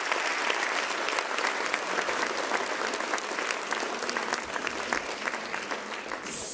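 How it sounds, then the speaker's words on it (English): A conference hall audience at the Copenhagen Democracy Summit applauds steadily, an even, moderately quiet patter of many hands clapping from start to finish with no talking. "I'm sure he'd appreciate a round of applause in the room for your support."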